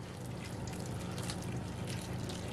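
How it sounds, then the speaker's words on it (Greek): Hot water pours into a container while a recipe is prepared with olive oil and water, a soft, steady liquid splash and trickle heard close and alone for a couple of seconds. "Ζεστό νερό"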